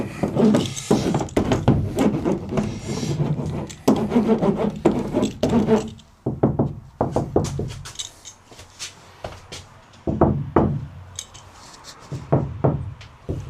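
Repeated hollow knocks and thumps on a MAN TGE campervan's metal panel during insulation, close and irregular, some deeper and duller than others, with handling noises between hits.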